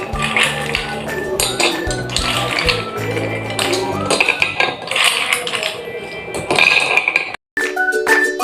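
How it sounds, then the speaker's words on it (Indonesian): Ice cubes are set onto a glass plate resting over a small bowl in a primary-school science experiment, making close clinks, taps and knocks over a steady busy background. "kemudian kita letakkan beberapa bongkahan es batu di atas."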